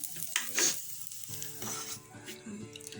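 Tikki snacks fry in shallow oil in a pan with a close, crackling sizzle, broken by the scrape and clatter of stirring and turning.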